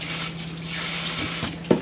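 Water running from a tap into a sink inside a motorhome, a steady close rushing hiss with a faint hum beneath and a brief splash or knock near the end.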